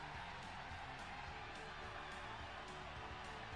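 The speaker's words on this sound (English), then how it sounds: "Wow, it's a very packed crowd." A packed crowd in a Pokemon video game arena gives off a faint, steady roar of cheering and murmuring that stays level the whole time, heard from a distance.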